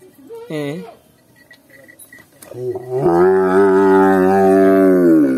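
A cow being checked for health gives a short call, then a long, loud, sustained moo lasting a couple of seconds, close by, with a person speaking briefly in between.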